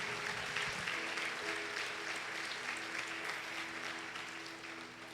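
Sustained applause from a church congregation during a worship service, a dense wash of clapping that slowly fades a little toward the end.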